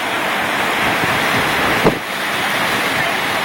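Strong tropical storm winds and crashing surf on Captiva Island during Tropical Storm Andrea make a loud, continuous roar with heavy microphone buffeting and a brief harder gust midway.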